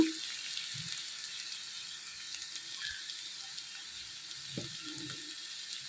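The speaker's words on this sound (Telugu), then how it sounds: "ఇదిగోండి పాలకూర తోటకూర కట్ చేసుకుని క్లీన్ చేసుకుని శుభ్రంగా ఫ్రై చేసుకోవాలి" Spinach and amaranth leaves frying in a pan, giving a steady, soft sizzle with faint clinks and a brief splash of water near the end.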